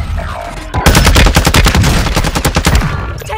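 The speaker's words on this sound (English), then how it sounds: "Taking effective fire!" Rapid automatic gunfire in Call of Duty Warzone 2.0 Plunder mode, starting abruptly after a quieter stretch and hammering in dense, loud bursts for nearly three seconds before cutting off.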